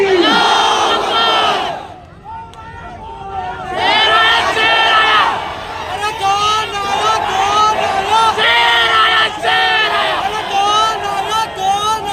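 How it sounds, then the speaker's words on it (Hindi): A large crowd at an outdoor MIM political rally in Aamkhas Maidan loudly chanting slogans in unison to welcome Owaisi, repeated surging calls with a brief lull between waves, near and forceful. "जोरदार नारे से इस्तकबाल करें अलहाज सदुद्दीन ओवैसी साहब"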